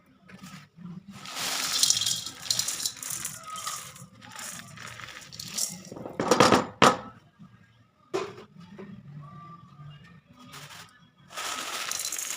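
Dried grated amla (Indian gooseberry) tipped into a pan, giving dry rustling and crinkling bursts, loudest around the middle, with quieter gaps between pours.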